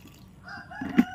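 Chickens being fed a bucket of freshly harvested azolla, clucking faintly at first and then rising into a short louder burst of fowl calls near the end.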